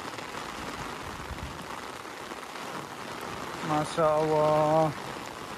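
Heavy rain pours over a mountain village at three in the afternoon, a steady, dense hiss throughout, with a brief voiced exclamation near the end.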